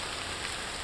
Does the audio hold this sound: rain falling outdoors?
yes